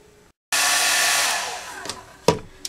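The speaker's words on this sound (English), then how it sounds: "Let me get out a hairdryer and just make sure we don't leave any of that tape residue on the parts" A hairdryer switches on with a loud, steady whoosh while warming motorcycle parts on an FZR restoration to lift tape residue, then its airflow drops off and a few knocks follow.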